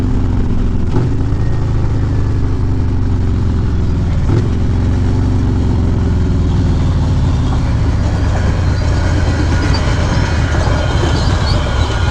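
A train rumbles past loudly and steadily, with a continuous roar of wheels on rails and a couple of faint clanks.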